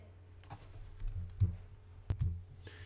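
Faint computer mouse clicks sound at irregular intervals, small dry ticks close by in a quiet room.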